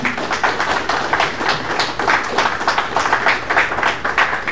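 Audience applauding fire department presenters at a community talk, a steady wash of many hands clapping at moderate loudness throughout, with no talk over it.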